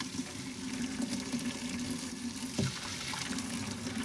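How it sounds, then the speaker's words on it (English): Hot water being drained from a pot of cooked black rice, a continuous close trickling pour with one brief clunk partway through, and no speech. "So what I'm going to do, I'm going to get some of the water out."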